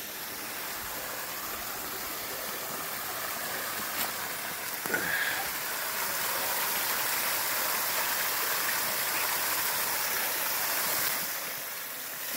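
Rushing creek water pours steadily over a series of rock ledges in Rock Creek, Laurel County, Kentucky, a continuous broadband wash close by with one brief sharp knock midway.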